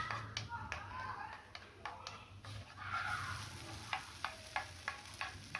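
Egg keema masala stirred and frying in a pan, a low steady sizzle under repeated scraping strokes of a spoon, with sharper regular taps toward the end and a voice talking faintly now and then.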